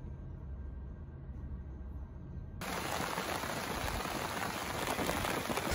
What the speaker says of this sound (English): Finally getting the rain that we wish we would have gotten months ago.